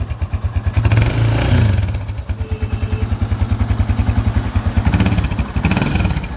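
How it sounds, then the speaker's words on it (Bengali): Speeder Countryman 165 cafe racer motorcycle engine runs close by with a steady, even thumping pulse, slight swells in revs, and a few light clatters. "ইঞ্জিনের সাউন্ডটা কিন্তু যথেষ্ট স্মুথ আছে।"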